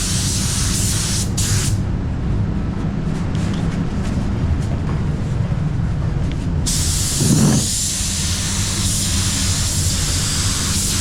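A DV1 B Plus 1.3 spray gun sprays PPG base coat on a Honda ZR-V in a spray booth, a loud continuous airy hiss over a booth's rumbling airflow, changing tone briefly partway through.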